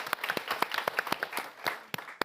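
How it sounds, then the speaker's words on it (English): Sparse clapping from a small audience at a young Londoners' summit, a few hands striking in quick, uneven bursts that stay fairly close and modest in loudness. "Last round of applause"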